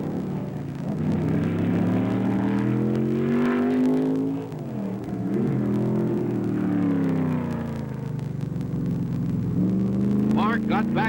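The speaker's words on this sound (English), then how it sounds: "roared into the lead with the Sunoco Special as they began the second lap" The Sunoco Special race car's engine roars on the track in a sustained, loud drone with a shifting pitch, while an announcer talks over it throughout.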